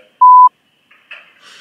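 A telephone line gives a single short, clear electronic beep at the start of a call, followed by near silence and faint small noises.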